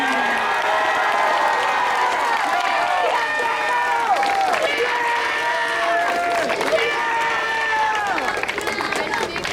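A large crowd applauds and cheers at a high school swim senior night, with sustained clapping and excited shouts filling the whole stretch at close, loud level.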